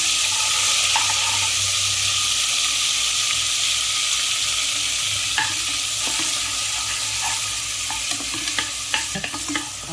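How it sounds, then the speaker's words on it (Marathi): Spice paste for a Malvani mori shark fish curry fries in oil in a pan, giving a steady close sizzle with occasional stirring scrapes and clinks for the full stretch, no talk. "पेस्ट बनवली होती ती थोडी घालून घेऊया आणि तेलावर परतून घेऊया"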